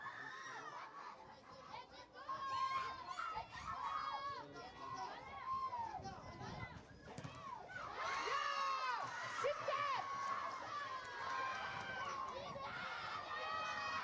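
Stadium crowd noise at a Bhutan Premier League football match between Ugyen Academy FC and Thimphu FC, a steady roar of voices and whistles that swells louder midway, with a commentator talking over it.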